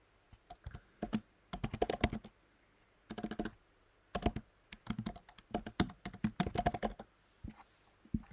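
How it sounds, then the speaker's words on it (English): Programming code typed on a computer keyboard: close, crisp key clicks arrive in quick bursts and scattered single taps with short pauses between, fairly quiet and with no talking. "We're going to type cout."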